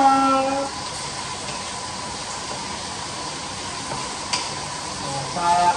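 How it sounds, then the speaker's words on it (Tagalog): A steady, even sizzle of potatoes frying lightly in a pan, close by and continuous, with a few faint clinks and stirring sounds. "Piniprito-prito na natin ng very light ang ating patatas"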